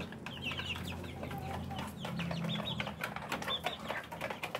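Young Rhode Island Red chickens, about six weeks old, cluck and peep near and far with some wing flapping, over a low steady background hum on a small farm.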